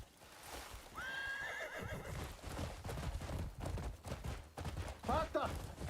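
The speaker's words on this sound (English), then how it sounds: "see how long we end up riding the horse up here." A horse in the Crimson Desert video game gives a clear whinny, then a second shorter neigh, over rapid clip-clop hoofbeats of riding, with a faint voice underneath.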